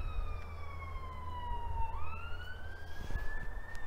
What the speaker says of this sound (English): Now I can hear, maybe it's a fire engine or the police.